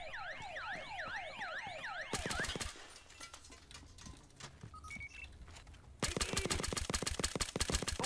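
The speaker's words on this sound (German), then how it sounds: "der Alarm" Alarm siren in the video game Battlefield Hardline, a loud rising-and-falling wail, followed by bursts of rapid gunfire and game sounds.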